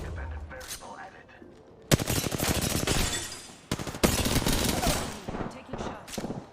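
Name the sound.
gunfire from the video game Apex Legends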